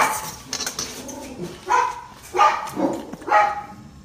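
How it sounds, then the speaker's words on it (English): A dog barks several times nearby in a home kitchen, a few spaced, moderately loud woofs following some softer yips. "Oh, there's the dog."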